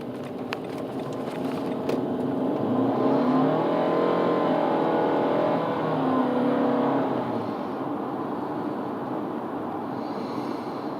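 A car's engine runs steadily as it is driven along, a continuous low hum with mild swells in loudness and no talking over it.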